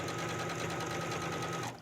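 A sewing machine stitches the lining of a little black dress at the armhole, running in a steady, close, fast mechanical whir for nearly two seconds before stopping abruptly, with no talking.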